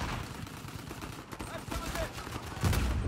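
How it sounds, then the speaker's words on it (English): Blind-fire gunshots in Uncharted 4 ranked King of the Hill multiplayer, a rapid stream of close, sharp shots rattling continuously with heavier bursts near the end, mixed with game noise and someone talking over it. "What is this blind fire?"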